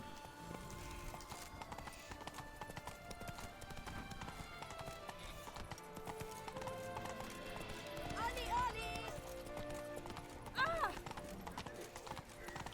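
Horse hooves clip-clop steadily in The Witcher 3, with an occasional whinny, under game music and speech.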